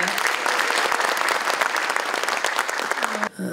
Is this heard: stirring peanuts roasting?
no